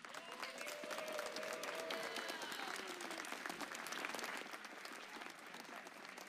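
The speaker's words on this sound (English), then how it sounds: "Another round of applause, guys, for our referees, our judges" A large crowd at a middle school VEX robotics tournament awards ceremony claps steadily and loudly throughout, a dense wash of applause with a voice faintly audible underneath.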